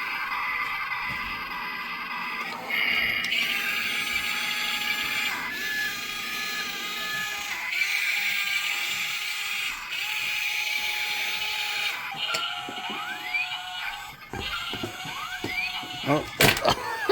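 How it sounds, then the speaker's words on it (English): A small electric motor in a remote-control excavator whirs with a thin, high, steady whine that shifts in pitch a few times as it starts and runs, near and fairly quiet. "How about start this little motor?"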